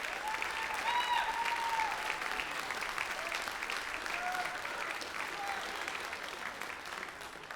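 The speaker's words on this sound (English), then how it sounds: "Let's have one last round of applause for our top 3 students." An awards-night audience applauds the top three students, steady broad clapping filling the room for several seconds, with faint voices and a few whoops underneath.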